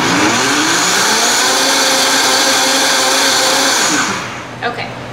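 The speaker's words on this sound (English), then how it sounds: "So let me blend this before I add the veggies" A kitchen blender whirs loudly and steadily, chopping white and green onion parts for ranch dressing, a high motor whine held for about four seconds before spinning down, with a couple of small clicks as it stops.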